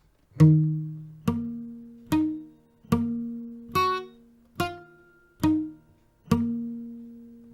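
Eight plucked guitar notes from a song ring out one after another at a steady, unhurried pace, starting on the open fifth string, each struck clearly and left to sustain, forming an arpeggiated chord pattern with no voices.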